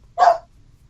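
Dogs bark in a single short burst close by, loud against an otherwise quiet background.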